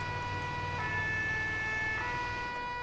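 An emergency siren blares steadily from a Paris fire-brigade rescue vehicle in modded GTA 5, sounding as a constant electronic tone over road noise, fairly close, with no voices.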